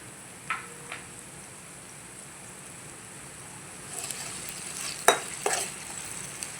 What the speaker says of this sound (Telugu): ఇప్పుడు కొంచెం లైట్గా అల్లం వెల్లుల్లి పేస్ట్ వేద్దాం